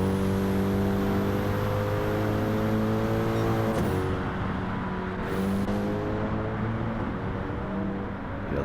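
Race cars in Gran Turismo 7 at Tokyo South roar past on the track, a steady loud engine drone with pitch sweeps as several cars go by in close succession.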